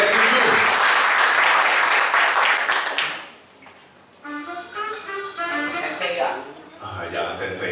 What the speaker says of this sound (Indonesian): Tepuk tangan sekali lagi buat PD7.